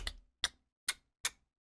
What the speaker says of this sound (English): It sounds kind of like a rim tap and a snap put together.